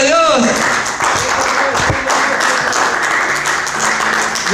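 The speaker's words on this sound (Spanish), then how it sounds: "Denle un fuerte aplauso, Señor" A congregation at a Spanish-language church Bible teaching on Daniel chapter 7 applauds, a dense, steady wash of clapping with voices shouting over it.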